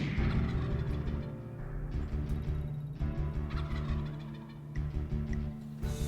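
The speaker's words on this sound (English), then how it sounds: "That's the closest turkey we've heard gobble since we've been hunting here on Youth Day." A wild turkey gobbles repeatedly during a spring youth-day hunt, the rattling gobbles fairly close and loud, with outdoor background and no talking.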